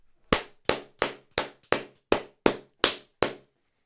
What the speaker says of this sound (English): I could not have told you it was 9 claps